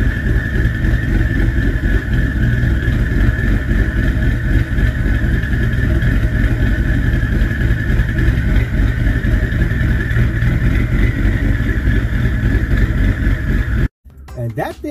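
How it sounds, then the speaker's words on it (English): Ford Explorer exhaust running a Ghost Cam tune, a loud, continuous, lopey engine note holding steady for about fourteen seconds before cutting off abruptly. "I think this particular Ghost Cam tune sounds better on a catless."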